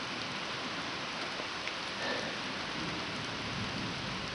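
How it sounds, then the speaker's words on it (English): Steady rain falling during a thunder shower on a farm, a constant even hiss with a faint low rumble of thunder midway, heard alone at moderate distance. "And we're getting a thunder shower."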